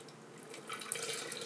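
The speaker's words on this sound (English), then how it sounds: "And then all of our cold water." Cold water pours into a bowl of pizza dough mix with flour and olive oil, a brief, faint splashing trickle heard close by without any voices.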